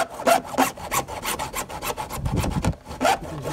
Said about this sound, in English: Then you get your hacksaw, and you call Quinn up.